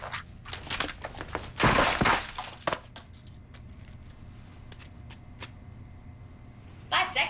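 A wet paper towel is squished as a foley stand-in for a banana peel being stepped on, giving soft, wet crunching and crinkling, loudest in one close burst, then scattered quieter squelches.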